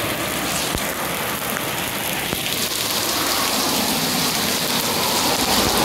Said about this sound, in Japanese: めっちゃひょう、 ひょう降りよる、ひょう。